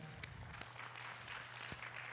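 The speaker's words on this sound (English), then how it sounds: "let's give him another hand clap" A hall audience at a civil rights address applauds after a speech. The clapping sounds faint and distant, with a steady patter and a few sharper individual claps.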